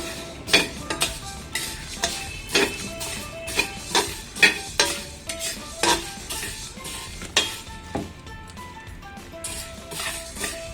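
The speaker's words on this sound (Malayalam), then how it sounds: "നമുക്കിതിനെ നല്ലതുപോലെ ഫ്രൈ ചെയ്ത് ഒരു ബ്രൗണിഷ് കളർ ആവുന്നത് വരെ ഫ്രൈ ചെയ്തിട്ട് പൊടിച്ചെടുക്കാം" Flattened rice (aval) frying and being stirred in a pan for a traditional Kerala evening snack, a rhythmic run of scraping strokes and light metallic clinks over a faint sizzle, close and without talk.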